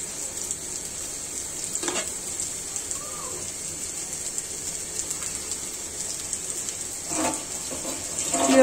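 Whole cardamom, black pepper and cloves sizzle and fry in oil for a pumpkin and rui fish curry, a soft, steady hiss with occasional stirring scrapes and clinks.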